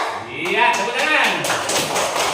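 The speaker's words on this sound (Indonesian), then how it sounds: "Iya, tepuk tangan" Schoolchildren in a classroom clap their hands in a quick, bright run of taps that comes up close and fairly loud, with voices mixed in underneath.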